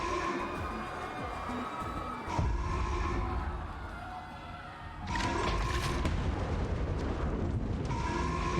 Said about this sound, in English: Oh, so we see an explosion.